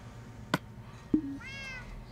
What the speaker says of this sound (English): Well, this cat won't be quiet